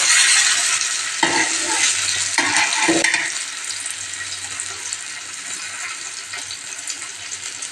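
Food frying on a tava, a flat griddle pan, with a bright continuous sizzle, interrupted by a few brief scraping and stirring clatters early on before settling into steady crackling.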